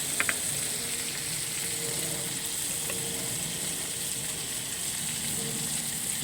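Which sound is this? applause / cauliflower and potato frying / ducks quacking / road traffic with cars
cauliflower and potato frying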